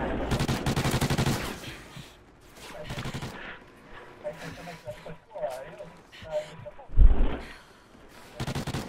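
Gunfire from the video game Call of Duty: Ghosts on PS4 comes in rapid bursts, loudest in a dense burst at the start and a sharp blast near the end, with excited talk over and between the shots.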